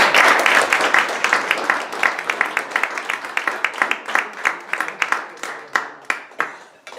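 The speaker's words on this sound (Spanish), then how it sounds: "Le damos un aplauso" Applause from the audience at a political talk and debate, loud and dense at first, then thinning into fewer distinct claps that fade toward the end, heard alone and close.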